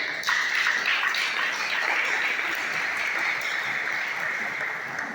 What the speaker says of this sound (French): je demande à la foule de leur applaudir chaudement.